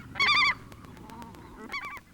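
Emperor goose, a small dark sea goose with a black throat and white tail, giving loud nasal honking calls in two bursts, a long clear series at first and then a shorter one, separated by quiet.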